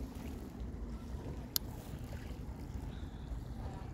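Continuous low rushing of water with a steady broadband roar, like waves churning against a boat or shore, with a brief sharp click midway.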